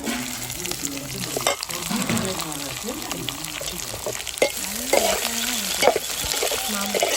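Chopped onions sizzling in oil in a pan for a dried fish (masi karuvadu) curry, with a steady frying hiss, occasional clicks of stirring and a voice murmuring faintly underneath.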